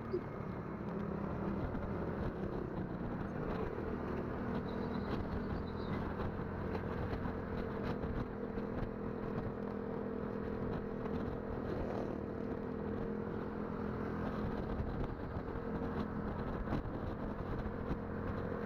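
A motorcycle engine drones steadily and fairly faint throughout a ride along a winding road near Lake Sebu, with a mild rise in revs partway through.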